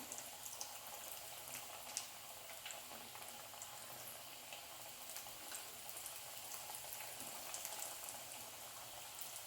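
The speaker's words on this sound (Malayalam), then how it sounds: "എണ്ണ ചൂടായിട്ടുണ്ട്. നമുക്കത് എണ്ണയിലേക്ക് ഇട്ട് കൊടുക്കാം." Vegetable cutlets fry in hot oil at medium flame, giving a faint, steady bubbling crackle with scattered small pops and no talking.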